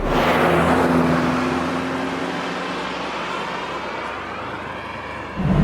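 A car drives steadily along a scenic road in Thailand, giving a smooth, fairly loud road and engine rumble that holds constant before a brief swell at the end.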